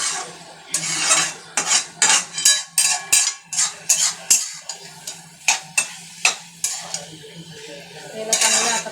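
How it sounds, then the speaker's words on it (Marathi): Fenugreek leaf vegetable is stirred in a pan with a metal spoon: a quick series of sharp scraping and clinking strokes in an uneven rhythm, close and loud, over a soft sizzle. "आपण आता इकडं भाजीला एकदा हलवून घेऊया"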